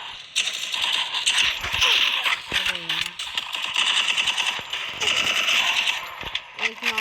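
Gunfire in a shooting video game: rapid, clattering bursts of shots come in quick clusters, with small metallic clicks between them.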